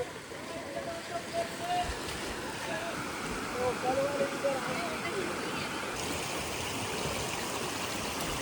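Water from a swollen stream rushes steadily across a jungle trek crossing in monsoon rain, a continuous broad wash that stays fairly even and moderately loud, with faint voices under the flow.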